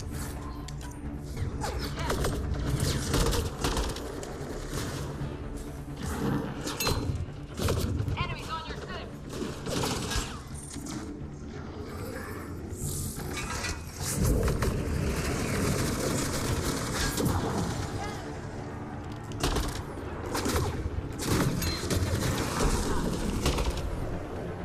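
Gunfire from the sci-fi shooter game Mass Effect Andromeda: dense, sustained bursts of shots crackle throughout among other game effects, with voices talking over the action.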